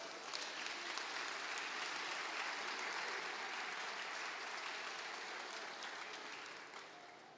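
Congregation applauding during a church service, a dense, sustained wash of many hands clapping that holds steady for several seconds before easing slightly at the end.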